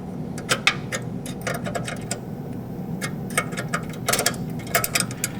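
Fittings on a Shimadzu SIL-10A valve are tightened by hand, producing a close run of small metallic clicks and ratchet-like ticks in irregular clusters over a quiet background, with no speech.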